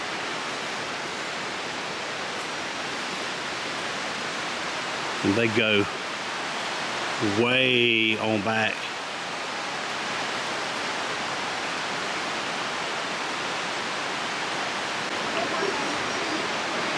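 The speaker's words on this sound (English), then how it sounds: "It is right on the edge of this creek, overlooking some beautiful white water." Creek white water rushing near an abandoned vacation resort, a steady broad roar throughout at close range, with someone talking briefly over it near the middle.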